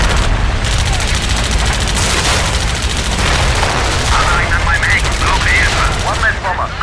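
Rapid bursts of machine-gun fire from aircraft in the video game Heroes over Europe, loud and continuous under engine roar, with radio-style voices talking over the later part.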